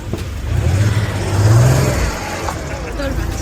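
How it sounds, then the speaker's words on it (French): A flat-six car engine revs up nearby, a low droning growl that climbs and swells in pitch over a couple of seconds, with people talking faintly over it. "Moteur flat 6."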